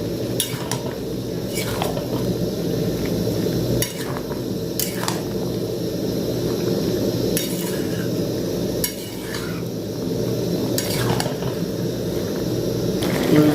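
Utensil stirring bottle gourd with turmeric, chili and cumin in a pan, repeated scraping clinks against a steady soft sizzle, fairly close and continuous with no talk.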